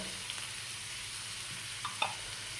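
Finely chopped ginger sizzles in hot oil in a pan for a Kerala pappadam thoran, a soft, steady frying hiss with a couple of light stirring clicks near the end.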